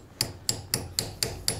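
A hammer taps a small screwdriver into a motorcycle oil filter on a Honda VTX1800, six sharp evenly spaced metallic knocks, close and alone.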